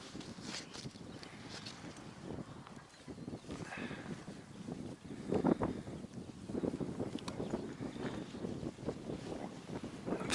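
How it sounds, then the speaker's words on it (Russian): Strong wind from an approaching snowstorm gusts across open ground during a goose hunt. It makes a continuous rough buffeting roar that swells and surges throughout. "Ветер на нас."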